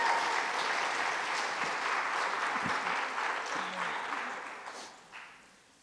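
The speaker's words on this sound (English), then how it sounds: "Can we get a round of applause?" A dense round of audience applause welcoming panelists at an evening panel on missing and murdered Indigenous peoples, a steady wash of many hands that fades out toward the end.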